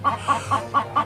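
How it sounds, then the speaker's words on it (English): A hen clucks in quick, rhythmic repeated calls, about five short clucks in a second, close and clear over a low background hum. "Oh, it is a hen."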